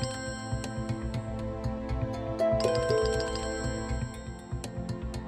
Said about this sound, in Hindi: ये लो, फिर से फोन बज गया।